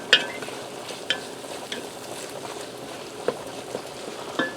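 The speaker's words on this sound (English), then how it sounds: "You just want to stir your garlic in until you start to smell it" Garlic fries in a pot, a faint steady sizzle broken by a handful of sharp spoon scrapes and taps as it is stirred, fairly close and with no talking.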